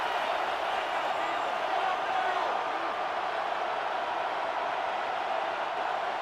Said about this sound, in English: The crowd cranking it up another notch before 3rd and long.